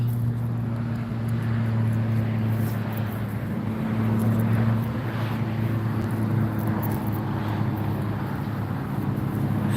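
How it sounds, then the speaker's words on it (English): Steady drone of aircraft at Las Vegas International Airport (Harry Reid), a continuous low engine hum with broadband wind-like noise holding at a fairly constant level throughout, no talk. "There'll be more aircraft coming our way in a minute."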